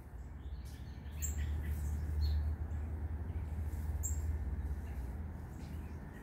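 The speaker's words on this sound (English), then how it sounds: "See all the birds." Small birds chirp and tweet outdoors at the squirrels' breakfast spot, their faint, scattered calls rising intermittently over a steady low rumble of background noise.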